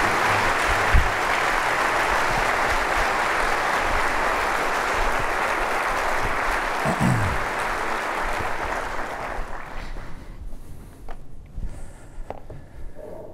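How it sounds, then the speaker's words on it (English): Sustained applause from a large audience greeting Secretary of the Navy Carlos Del Toro, dense and steady for about ten seconds before thinning into scattered final claps. "I ask for a round of applause for our Secretary of the Navy, Carlos Del Toro."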